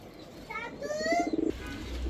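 A pair of Indonesian Tamba pigeons coo close by, a short rising call followed by a quick run of throaty pulses, heard alone against faint background noise.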